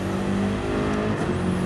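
A race car engine at full throttle on the Bathurst circuit in a racing video game, a loud, close, sustained high-revving drone with a steady harmonic whine and no speech.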